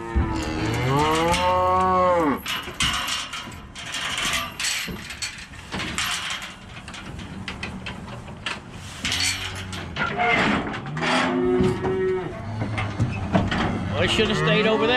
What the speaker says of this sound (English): the first load of cows is here waiting on their babies